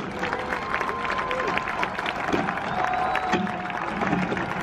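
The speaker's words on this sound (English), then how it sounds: "And now a round of applause" Stadium crowd at a YSU football game applauding and cheering, a lively mix of claps and voices with whistle-like tones, moderately close and continuous.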